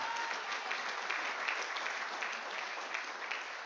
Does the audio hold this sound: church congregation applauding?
yes